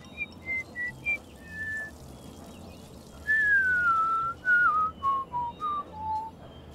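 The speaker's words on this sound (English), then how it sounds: "Do I have to keep track of what she whistles?" A whistled tune from the video game Fallout 3: a series of clear whistled notes, a short sequence of brief pitches, then a longer gliding phrase stepping downward, heard alone over faint background noise.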